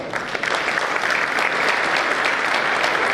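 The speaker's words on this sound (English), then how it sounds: "And I would request everyone to give a big applause." Audience at a farewell for a retiring High Court judge gives sustained, even applause, a continuous wash of many hands clapping with no break across the whole stretch.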